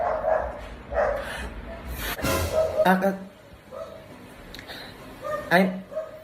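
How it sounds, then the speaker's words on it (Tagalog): A dog barks in a few sharp bursts spread through the moment, close and fairly loud, while people talk and exclaim nearby. "Sa pabe, may aso."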